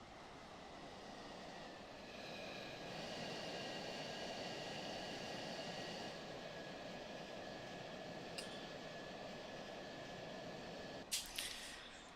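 A jet aircraft in the Falcon BMS flight simulator lands on a runway, its engine roaring steadily in a broad, unbroken wash with a faint whine, ending in a couple of short bumps.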